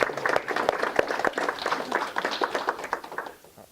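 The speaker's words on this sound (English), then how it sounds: "Let's give Jean a round of applause." A meetup audience applauds Jean-Michel with dense, fairly close clapping that swells and then fades toward the end, with no talk over it.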